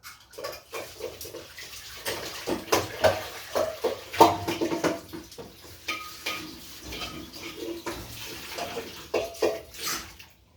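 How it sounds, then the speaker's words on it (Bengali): A wok is rinsed with water, heard as irregular splashing and swishing with clanks of the metal pan, fairly quiet and close, in uneven bursts with no speech. "কড়াইটা একটু হালকা করে জল দিয়ে ধুয়ে নিয়ে আসি"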